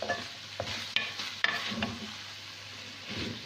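Saalan curry with green chilies and fresh coriander sizzles softly in a pan while a utensil stirs and scrapes it in several short, sharp strokes, close up with no talking.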